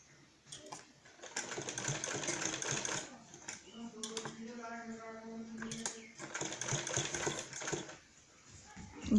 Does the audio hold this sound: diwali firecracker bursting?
no